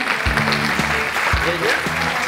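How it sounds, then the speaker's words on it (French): An audience claps at an organic products award ceremony as a presenter is called to the stage, steady dense applause throughout with a tonal musical sting playing over it. "On l'applaudit, s'il vous plaît."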